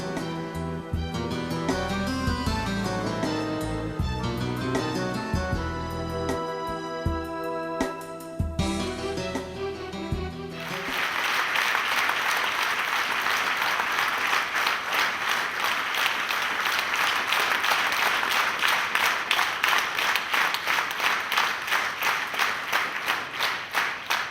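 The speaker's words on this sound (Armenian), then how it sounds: "կխնդրեմ կրկին, որ հնչեն ծափարություններ" Sustained audience applause at a memorial tribute, dense steady clapping from a large crowd following a stretch of music, continuing loud and even to the end.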